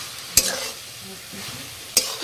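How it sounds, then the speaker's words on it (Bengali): Carrot halwa cooked with jaggery gets stirred in a pan with a spoon, giving two sharp scraping strokes against the metal over a soft, steady background hiss. "দুধটা দিয়ে আমি ভালো করে গাজরটাকে নাড়িয়ে নেব সুন্দর করে"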